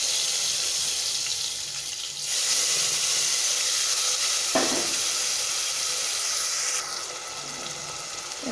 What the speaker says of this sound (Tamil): இப்போ நம்ம அரைச்சி வச்சுருக்க விழுது சேர்த்திக்கலாம்